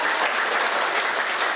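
Audience applause for a poet's recitation at an Independence Day poetry gathering, a dense, even wash of many clapping hands, fairly loud and close, with no voices over it.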